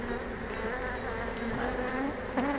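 A honeybee swarm gathers at a hive entrance, bees fanning to spread pheromones, making a dense, steady buzzing drone with individual bees' wingbeats rising and falling close by.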